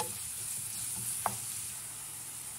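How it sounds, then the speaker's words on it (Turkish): About 250 grams of ground beef frying with sautéed onions in a pan, a low steady sizzle with faint stirring and one small clink of the utensil, no voices. "Kavrulan soğanlarımın üzerine 250 gram kadar kıymayı alıp onu da güzelce soğanlarla buluşturuyorum."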